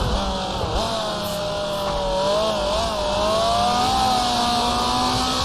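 A race car in Grand Prix Legends, a 1966 Formula 2 round at Goodwood, its engine droning loud and steady with rising and falling revs through corners and a brief upset over the curbs.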